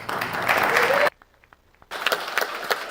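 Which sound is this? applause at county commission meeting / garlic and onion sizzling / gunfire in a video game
applause at county commission meeting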